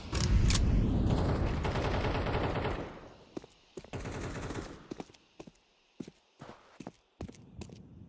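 Video game gunfire: a dense, loud burst of automatic shooting for about three seconds, then scattered single shots and short bursts spaced irregularly, with no talk over it.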